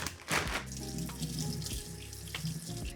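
Apples being washed under a running kitchen tap, a steady close rush of water splashing into a sink, with brief louder bursts as the fruit passes through the stream.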